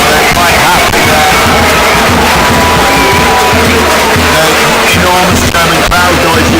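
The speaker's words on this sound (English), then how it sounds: "Enormous German crowd noise you can probably hear is Germany scoring on the adjacent pitch" A large German crowd roars for a goal on the neighbouring pitch at the 2023 European Canoe Polo Championships, a loud, sustained wash of cheering and shouting that fills the whole stretch.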